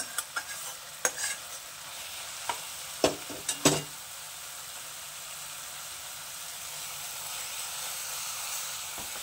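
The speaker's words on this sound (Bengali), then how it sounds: "এবার দিয়ে দিচ্ছি এই ভেজে রাখা মেথি শাকটা" Fried fenugreek greens tossed into cooked-down masala in a pan, with a handful of sharp scraping stirs near the start over a low, steady sizzle that carries on quietly after the stirring stops.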